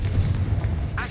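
A Confringo fire spell explodes in Hogwarts Legacy, giving a loud, sustained booming blast with a low rumble that runs the full second and ends in a short crackling burst.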